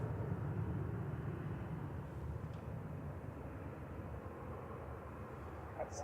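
An Etihad airliner moves onto the runway at a misty Manchester Airport, heard as a steady distant jet engine rumble that stays fairly constant throughout with no talk.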